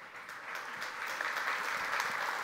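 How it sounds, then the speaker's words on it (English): A conference audience claps at a sales talk event, a brief, fairly quiet burst of scattered applause that holds steady throughout without any voices. "Applause is free."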